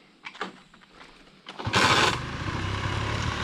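A scooter on an obstacle course revs up and pulls away after a few soft clicks and knocks, its engine growing into a loud, steady buzzing drone.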